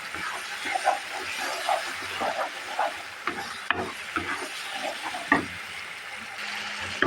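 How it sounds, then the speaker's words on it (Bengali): Baim fish frying in a pan with spices: a steady, close hiss and sizzle with faint stirring scrapes and small clinks, no voices. "এখন আমি মাছগুলোকে ঢেলে দিলাম মাছগুলোকে সেখানে কষিয়ে"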